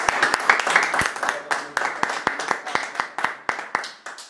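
Applause and rhythmic hand claps for a rapper during an interview, a steady series of sharp, fairly close claps repeating about every quarter second, with voices over the first part.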